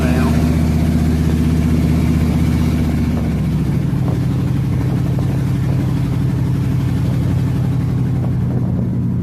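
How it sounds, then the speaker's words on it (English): A car engine idles close by, now running smoothly on all cylinders, its steady low rumble continuous throughout with a slight shift in tone partway through. "I can tell it's running on all the cylinders now."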